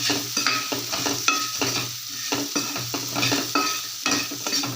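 Ingredients for paneer butter masala frying with salt in a pan, a continuous close sizzle with frequent rhythmic scrapes and clinks of a spoon stirring against the pan, no voices.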